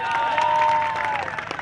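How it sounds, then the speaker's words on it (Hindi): Brief burst of crowd clapping from a large outdoor gathering of people, dense and loud, with a steady whistle-like tone running through it and no clear speech. "पहले तो इनके लिए सारे लोग तालियां बजाएंगे।"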